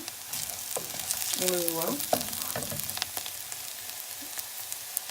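An onion cooking in a pan gives off a steady close sizzle and crackle throughout, with a brief spoken phrase partway through.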